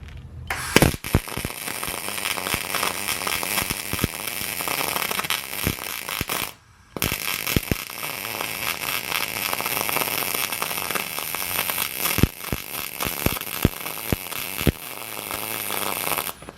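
Welding on spray foam insulation, sparks and slag falling onto the foam: a dense, continuous crackling buzz with sharp pops throughout, loud and close, briefly cutting out once before resuming.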